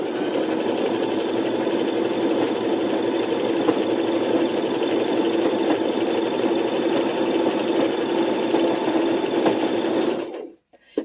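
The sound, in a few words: sewing machine stitching two pieces of fabric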